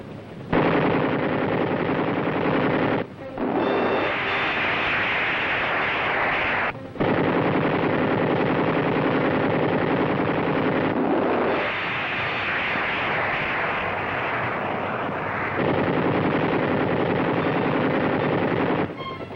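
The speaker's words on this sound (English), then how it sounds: "enemy positions below are fired upon by our gunners" Sustained loud bursts of machine-gun fire from helicopter door gunners shooting at enemy positions below during an airborne Ranger assault in the Vietnam War, steady and dense with brief pauses between long volleys.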